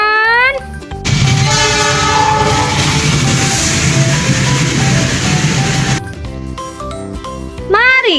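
A toy train sound effect plays a train horn and rolling clatter, loud and close, with a synthetic tone at the start and end, briefly overlapping a voice.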